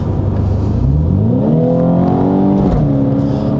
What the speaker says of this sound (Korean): 저는 이제 부자연스러운 이 가상 엔진음이 좀 이렇게 들리거든요